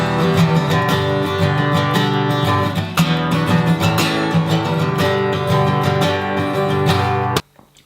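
Acoustic guitar strumming a verse chord progression at a brisk pace, loud and close with steady rhythmic strokes, stopping abruptly near the end.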